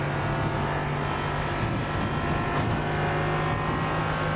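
A GT3 race car at full throttle on Circuito de Jerez in a racing video game, its engine a loud, continuous high-revving roar that holds steady throughout with no pauses.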